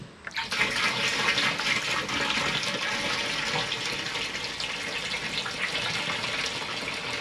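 Half a gallon of water poured into a container of 87-octane gasoline, a steady gushing, splashing pour that starts abruptly and continues loudly and evenly for several seconds, close to the microphone, with no talk.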